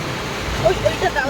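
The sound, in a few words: heavy rain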